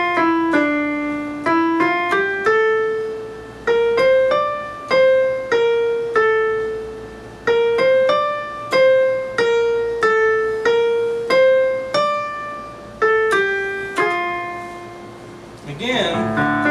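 The carol The First Noel played in Aeolian mode, a single melodic instrument sounding clear sustained notes in a steady tune, bright harmonics over each pitch, ending with a brief burst of noise.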